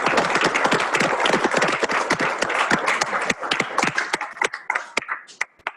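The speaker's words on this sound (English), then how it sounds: "let's give another round of applause" Audience applause closing a Go programming talk, a dense burst of hand claps that thins out into a few scattered, separate claps before fading.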